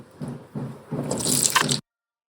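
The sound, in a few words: cubed potatoes added to hot pan with bay leaf and cumin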